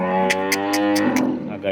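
A cow on a farm lets out a steady, close moo lasting under two seconds. A series of quick, sharp clicks or taps cuts over the call.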